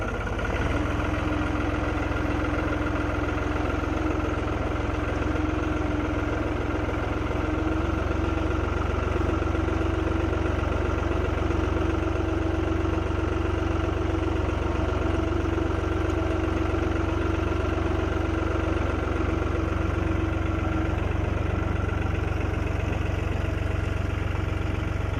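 A seed planter with a seed metering belt running, a steady mechanical drone with a constant low hum and a faint tonal whine, unchanging and continuous for the whole stretch without talk.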